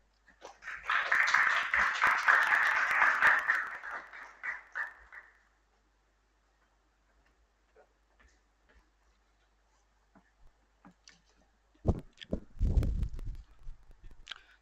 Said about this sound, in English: With a huge round of applause, let us welcome the presiding officer of the day